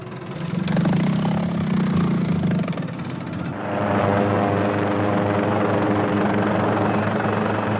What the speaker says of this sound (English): I send the helicopter on a reconnaissance flight